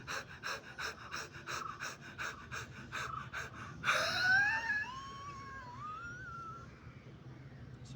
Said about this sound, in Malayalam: ശ്വാസം മൊത്തം പുറത്തേക്ക് വിടും.